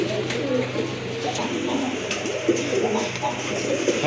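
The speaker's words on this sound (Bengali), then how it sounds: "ব্ল্যাক গোড়া এটা কিন্তু খাড়া ঝুটির কবুতর" Crested pigeons coo steadily in a loft among other pigeons, a soft, continuous low murmur of calls close by, with someone talking over it.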